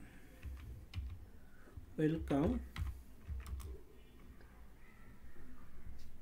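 Keystrokes on a computer keyboard entering a router MOTD banner command, quiet clicking heard under someone speaking, with a low background hum.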